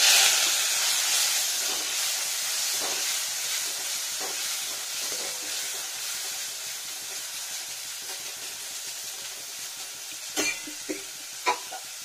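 Mustard seeds fry in a hot pan for red spinach, giving a steady, close sizzle and hiss that fades slightly over time, broken near the end by a few sharp clinks of a spatula.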